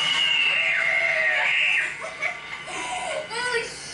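A shrill high-pitched scream, then squealing and giggly laughter, loud and close.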